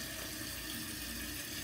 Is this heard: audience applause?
no